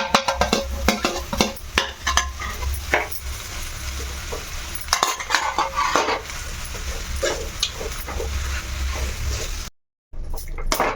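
Mashed potato samosa stuffing being mixed by hand or spoon in a bowl, with soft squelching and scraping strokes in irregular bursts and a brief silent gap near the end.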